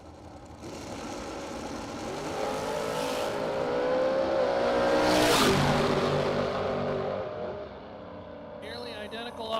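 Drag race cars in the Brogy Roadster class rev and launch off the starting line, engines swelling to a loud roar that peaks mid-way and then fades downtrack, with an announcer talking over the noise.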